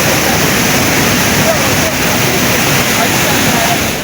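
Waterfall in the Arba Minch area, a steady, loud broadband roar of falling water that holds unbroken and close for the whole stretch.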